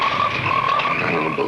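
Frogs croaking in a dense, continuous chorus from an old horror movie trailer, loud and steady throughout with no pauses.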